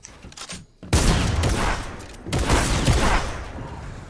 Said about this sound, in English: This kid has a new shotgun.